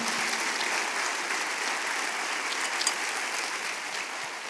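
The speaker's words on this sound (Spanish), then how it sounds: "démosle un fuerte aplauso al Señor" Steady, sustained applause from a church congregation filling a room, even and continuous throughout.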